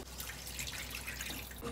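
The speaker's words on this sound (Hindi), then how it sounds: "अब इसमें डाल देंगे हम पानी" Water poured into a pan of spices while cooking kakoda sabzi gives a steady, close splashing and sizzling patter with no speech over it.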